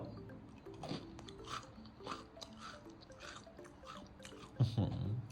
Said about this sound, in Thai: ก็จะกรอบๆเคี้ยว